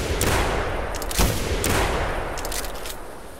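Rapid gunshots ring out while hunting a flock of geese in theHunter, several sharp cracks in close succession over steady background wind and ambience.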